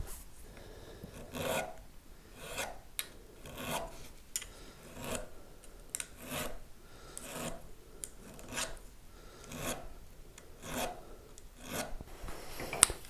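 Metal file rasping along the fret ends of a Thinline Telecaster guitar neck, close and steady, in a regular back-and-forth rhythm of strokes roughly every second.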